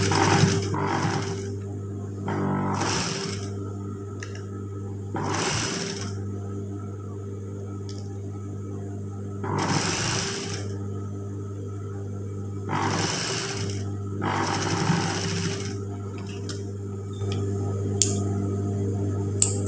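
A household sewing machine stitches fabric along both sides of a seam in short bursts of rapid mechanical whirring and clatter, separated by pauses. A steady low hum runs underneath throughout, heard close up.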